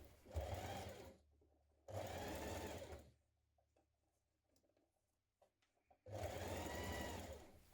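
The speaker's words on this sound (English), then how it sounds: "pin it in position and then baste at the sides" A sewing machine bastes leotard lining at the side seams, running in three close, steady bursts separated by quiet pauses filled with faint handling clicks.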